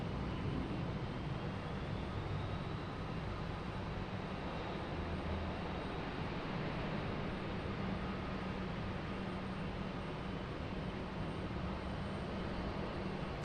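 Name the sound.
airplane arriving at Raleigh Durham airport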